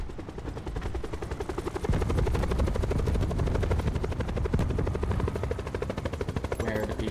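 A helicopter in Call of Duty Black Ops 4 Blackout thrums with a loud, steady rotor chop, growing heavier after a couple of seconds and holding close throughout, with faint gunfire-like crackle mixed in.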